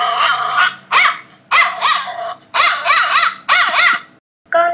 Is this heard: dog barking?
yes